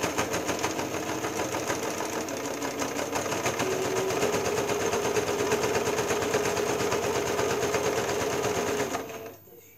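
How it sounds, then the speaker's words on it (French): A sewing machine stitching a homemade apron runs steadily and loudly for about nine seconds with a fast, even mechanical patter, then stops abruptly near the end. "Donc je vais coudre comme ceci pour terminer mon tablier"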